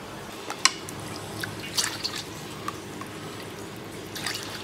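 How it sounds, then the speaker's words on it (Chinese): Soup being ladled out of a pot of braised pork knuckle, with sparse drips and small liquid splashes and clinks spread over a quiet background, close and faint, no talk. "咱们先从里边舀点汤"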